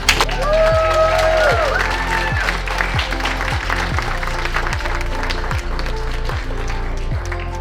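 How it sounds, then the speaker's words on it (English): Wedding guests give a round of applause in a reception room, a steady wash of clapping with some murmuring and a cheer, over a rhythmic low thumping backdrop. "If we could give them a round of applause"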